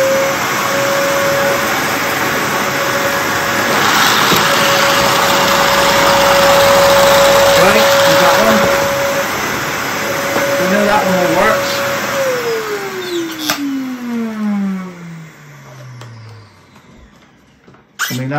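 A Henry vacuum cleaner fitted with a Numatic turbo electric power head runs loud and steady for about twelve seconds, then winds down with a falling whine, with a voice speaking over parts of it.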